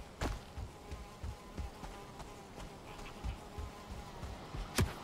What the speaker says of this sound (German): diese Mücke macht mich auch wahnsinnig